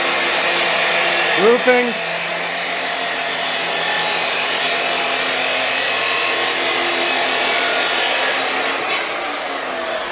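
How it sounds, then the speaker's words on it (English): A chop saw cuts metal on a guest house construction site in the Philippines, giving a loud, steady grinding whine for several seconds. A brief voice is heard early on. "Go ahead and chop that sucker. We got the chop saw going."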